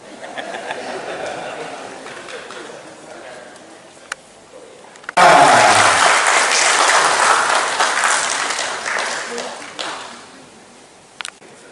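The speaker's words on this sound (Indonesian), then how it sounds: "Tepuk tangan lagi" Audience applause at a book discussion event, quiet murmuring and scattered claps at first, then a sudden loud burst of clapping from the crowd that carries on for several seconds before dropping away.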